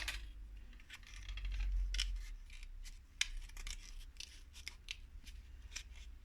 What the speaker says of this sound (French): je vais quand même le couper